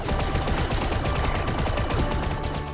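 Blaster fire in the Star Wars Outlaws video game: a dense, loud, continuous barrage of rapid shots layered with battle noise, with no talking.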